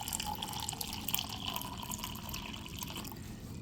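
Water running steadily from a kitchen sink tap into a cup, a continuous close splashing trickle that fills the whole stretch without pause.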